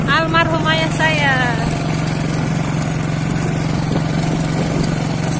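A Honda Astrea 800 motorcycle engine drones steadily at low pitch while being ridden on a quiet rural road, with someone talking over it throughout.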